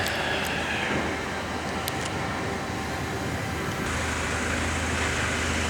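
A car pulling away inside a local authority MOT test station, with a steady low engine rumble and broadband workshop noise that grows slightly louder partway through, with no one speaking.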